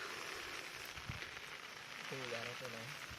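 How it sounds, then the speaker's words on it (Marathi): Steady rain patters down outdoors in the Konkan countryside among rice paddies and rocky plateau ground, a constant faint hiss with a brief voice-like tone near the end. "पाऊस पण मित्रांनो आला पाऊस"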